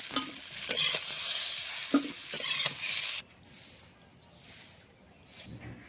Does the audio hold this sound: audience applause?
no